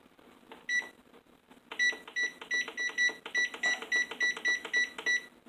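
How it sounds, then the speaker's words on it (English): A digital kitchen timer is set while peanut butter fudge is cooking at a rolling boil, giving a quick run of sharp electronic beeps, one per button press, rapid and evenly paced, close and clear. "I'm going to set my timer"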